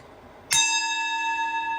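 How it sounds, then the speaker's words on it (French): A small Tibetan singing bowl is struck once and rings out clear and sustained, its bright metallic tone hanging steadily in a quiet room. "je vais faire teinter la petite cloche, le bol tibétain"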